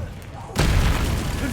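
Confringo fire spell blast in Hogwarts Legacy, a single loud, close boom that cuts in abruptly and rolls on as a dense rumbling roar.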